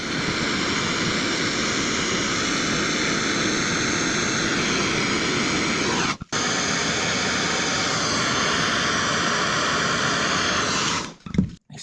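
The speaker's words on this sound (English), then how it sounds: "Too hot, that quick fire gas lamp," A quick fire gas lamp torch flame roars in a steady, loud, close hiss on a new-build plumbing job, breaking off for an instant and then cutting out near the end, with no voices.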